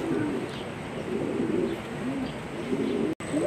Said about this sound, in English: Got the pigeons inside.